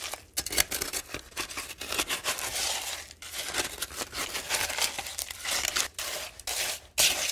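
Cement, aggregate and water being mixed into concrete, giving a steady gritty scraping and crunching with repeated strokes at close range and no talk.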